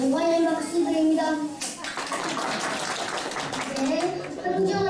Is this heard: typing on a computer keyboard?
no